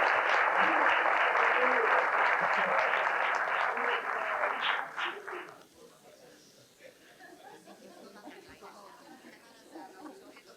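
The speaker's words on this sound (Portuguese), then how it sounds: "Uma salva de palmas" A large crowd applauds loudly and steadily for about five seconds, then the clapping fades out, leaving quiet room murmur and faint shuffling.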